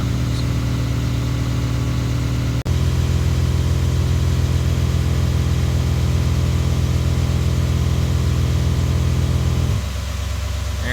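A pickup truck engine idles with a steady, loud drone while a Viair 480C air compressor runs alongside it, then the compressor shuts off near the end and the tone drops.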